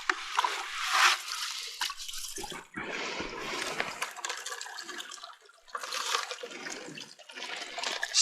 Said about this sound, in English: Let's run it through the sluice and see if we can come up with some gold